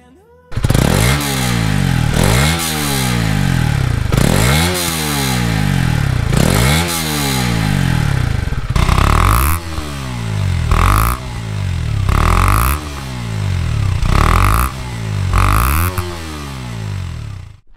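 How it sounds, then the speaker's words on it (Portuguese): A KTM Duke and a Honda CB125R motorcycle, exhausts revved in turn at close range: a series of about eight sharp throttle blips, each rising and falling, loud and alone with no talk. "Vamos só ver o barulho de cada escape, vamos ver qual é que faz o melhor barulho"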